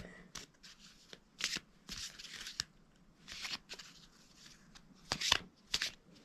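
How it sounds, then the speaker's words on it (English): A deck of tarot cards is shuffled close by in several separate bursts. Each burst gives a crisp riffling flutter, with soft handling rustles between. "let's get some more cards out"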